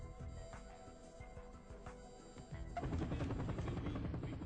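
A helicopter during CRPF commando training, heard as a steady rotor and engine drone that grows louder and more pulsing partway through, with sharp bursts mixed in.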